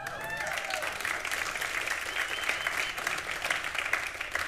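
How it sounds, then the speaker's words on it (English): A church congregation claps together in a steady, even patter of applause lasting a few seconds, heard at a moderate distance with no voices over it. "I hear you clapping"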